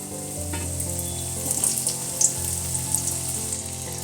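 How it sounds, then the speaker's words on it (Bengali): Potatoes fry in oil previously used to fry fish, giving a steady, moderately loud sizzle with faint crackles and a low hum underneath. "ভেজে রাখা ওই তেলের মধ্যে এবার আলুগুলো ভেজে নেব"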